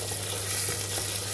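Onions frying in a pan as a base for Italian-American baked beans, a loud, close, unbroken sizzle with faint stirring underneath and a steady low hum.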